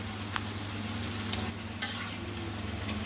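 Turmeric, coriander powder and other ground spices being stirred in a pan for bhuna khichuri, a low steady sizzle with a few spoon scrapes and one brighter clatter midway, close and quiet.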